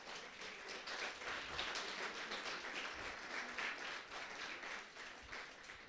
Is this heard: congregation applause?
yes